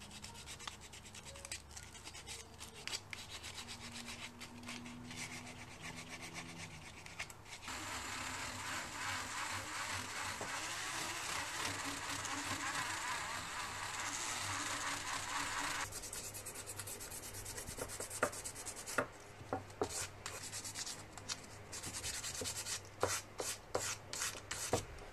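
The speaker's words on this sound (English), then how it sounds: "I'm done sanding off the first layer." Sandpaper rubs a first finish layer off a broken knife handle being restored, a faint scratchy rasping that runs in bursts, turns continuous, then ends in quick short strokes.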